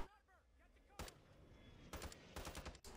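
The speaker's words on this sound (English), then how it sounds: "Got a couple shots on him." Gunfire in Call of Duty: Warzone: a single loud shot, then a rapid cluster of shots and another short burst, close and sharp over a low game ambience with a faint tonal voice-like sound at the start.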